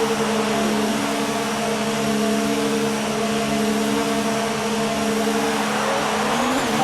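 F1 race car engine in a video game, in Kimi Raikkonen championship mode at Bahrain, exiting the pits: a steady, loud high-pitched whine with a constant drone and a slight pitch rise near the end.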